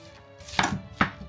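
Knife chopping through the core of a napa cabbage on a cutting board for kimchi, two crisp distinct cuts close up with quiet background, no speech.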